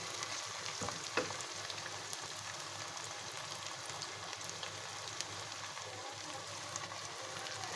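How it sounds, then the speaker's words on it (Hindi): Keema masala with kachnar and potato sautéing in a pan, a steady soft sizzle throughout with a few faint utensil taps, no talking. "इसको भी सौते कर लेंगे"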